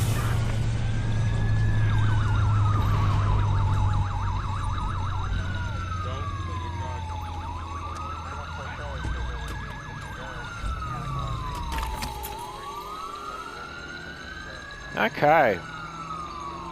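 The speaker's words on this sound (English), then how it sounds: "Ambulance required." An ambulance siren from the Watch Dogs video game wails in long rising and falling sweeps over a low engine hum. It fades gradually, with brief game voices and a short burst of other sound near the end.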